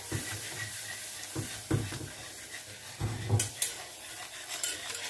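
A spoon stirs flour into melted butter in a pan for béchamel. Soft scraping and rubbing strokes come in irregular bursts, close by and fairly quiet, with no talking.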